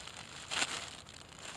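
A piece of wax paper ripped off the roll for a coyote trap set, one short tearing rasp near the middle, close and faint over quiet outdoor background.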